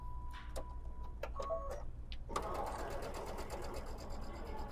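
A sewing machine presser foot stitches up and over a seam, starting with scattered clicks and soft taps, then a steady fast whirring run of stitching, close and moderately quiet.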